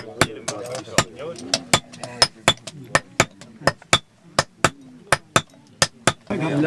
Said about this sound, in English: This very strong, vigorous pounding flares one end to form the socket.